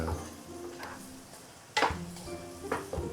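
Chicken being stir-fried in a wok with a spatula gives a soft sizzle broken by sharp metallic scrapes and clanks against the pan, a few louder strokes spaced irregularly, close up.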